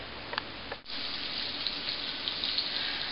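Salmon croquettes go into a pan with about a quarter inch of canola oil on medium-high heat. A steady, close, hissing sizzle follows a brief dip and continues evenly.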